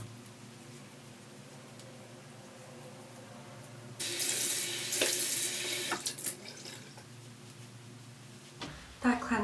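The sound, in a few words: water running while washing off facial cleanser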